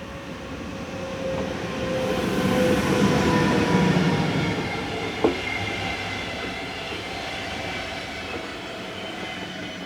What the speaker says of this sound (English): number 45063 makes a steady approach as it heads a stopper bound for Zurich